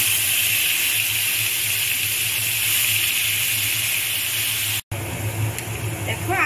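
Onion paste hits hot oil in a pan while making chingri malai curry, giving a steady broadband sizzle and hiss that runs for several seconds, breaks off briefly, then resumes more softly.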